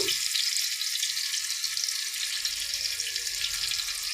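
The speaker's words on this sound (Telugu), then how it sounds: "ఈ వేడెక్కిన ఆయిల్లో ఉడికించి పెట్టుకున్న ఈ రొయ్యల్ని దోరగా వేసుకున్నాము ఆయిల్లో మనం తరిగి ఉంచుకున్న ఉల్లిపాయ తరుగు అలాగే పచ్చిమిర్చి తరుగు" Prawns with chopped onion and green chillies frying in hot oil, giving a loud, dense, continuous hiss and sizzle close up throughout.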